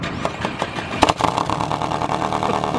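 A car engine runs through a homemade exhaust pipe, idling with a rough, rumbling pulse and a sharp revving spike near the middle, close by.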